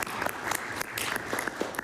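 Brief applause from members in the House of Assembly chamber: a dense patter of many hands clapping at moderate distance, fairly faint, lasting under two seconds with no talk over it.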